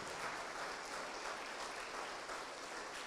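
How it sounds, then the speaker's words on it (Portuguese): A church congregation applauds, a dense, even wash of clapping that stays steady and fairly soft throughout, with no voices over it. "Vamos aplaudir ao nome de Jesus."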